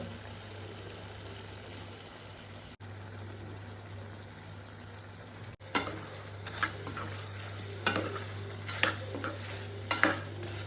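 Chicken semi-gravy is stirred in a pan after spice powder goes in, with a steady low hum at first and then a series of close, sharp spoon scrapes and knocks over a soft simmering hiss.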